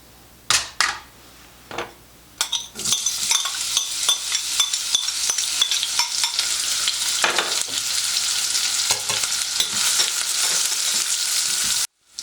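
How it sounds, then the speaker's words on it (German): Onions sautéing in a few spoonfuls of oil in a pan, a steady close sizzle with crackling spits and a few clattering stirs near the start, no voices. "Ich habe sie jetzt nur 2-3 Minuten so ein bisschen glasig angebraten."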